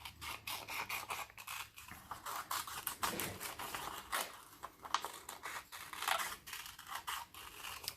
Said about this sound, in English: So we're turning it as we go, we're carefully cutting it.